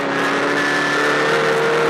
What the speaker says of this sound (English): Accelerating around this quite hard now, and the wheels are spinning.